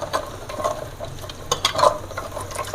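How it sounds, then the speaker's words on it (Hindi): Falsa juice with added black salt being stirred, a light clinking, scraping swirl with a few sharper taps, close and fairly quiet with no talk. "इसको हम चला लेते हैं थोड़ा सा।"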